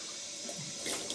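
Warm running water splashes up onto a face during a wet shave with a vintage Depression-era razor, a brief, close, continuous watery rush with a couple of louder splashes near the end.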